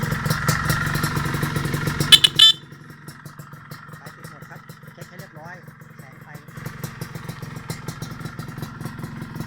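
A Yamaha RXZ motorcycle engine with a loud aftermarket exhaust rumbles loudly up close, drops to a quieter idle with a voice briefly heard, then picks up again.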